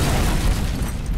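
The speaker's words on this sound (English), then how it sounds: "Here comes the explosion." Deep explosion effect from an action-comedy trailer, a loud rumbling boom that fills about a second with heavy low-end roar and no voices.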